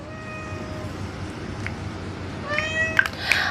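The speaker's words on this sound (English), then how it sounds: "Honey, are you gonna meow at me forever?" A cat meows indoors, starting with a thin, faint drawn-out cry and ending in a few louder, sharper meows over steady low room noise.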